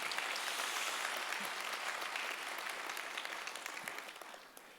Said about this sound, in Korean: 우리 감사한 마음으로 한 번 더 박수하겠습니다